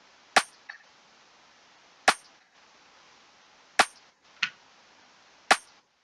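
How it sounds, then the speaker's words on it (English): A Cymatics rim shot drum sample plays in a sparse pattern: five sharp, bright cracks spaced roughly evenly, with a softer ghost hit after the first, each clicking cleanly over near silence. "Next up, we have a rim shot, and you guessed it, it's from Cymatics."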